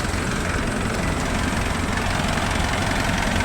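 A car engine idles steadily during a jump start from a second car, a continuous dense rumbling drone that stays near and even throughout, with no voices.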